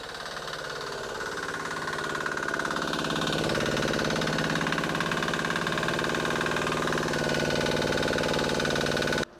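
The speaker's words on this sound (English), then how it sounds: "so far the engine's running pretty good" Small diesel engine idling on olive oil fuel, a steady rapid knocking chug that runs loud and unbroken throughout before cutting off at the very end.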